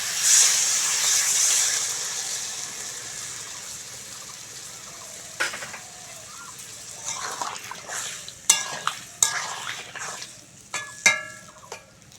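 Water poured into a pan of frying kalai greens, a loud hissing gush at first that fades to a low simmer, followed by several sharp clicks and clatters of utensils, close with no speech.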